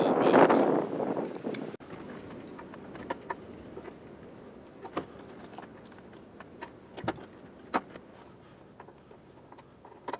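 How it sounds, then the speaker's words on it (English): Strong wind gusts buffet the microphone outdoors beside a car, a heavy rumbling burst at first that settles into a steady rushing noise dotted with sharp clicks and small knocks. "it's ridiculously windy"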